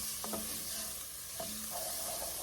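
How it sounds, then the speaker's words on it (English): A tablespoon of garlic frying in a pan while being stirred, a quiet continuous sizzle broken by a few brief utensil scrapes and taps, close up and without speech. "I'm just going to add in our 1 tablespoon of garlic, and I'm going to stir that around for about 30 seconds"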